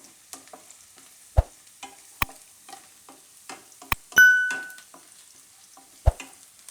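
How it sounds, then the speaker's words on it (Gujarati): Cashews brown in a little oil in a pan. Faint sizzling sits beneath a series of sharp spoon clicks and taps, with no talking. "તો કાજુને થોડાક આપણે તેલમાં આ રીતે બ્રાઉન કરવાના"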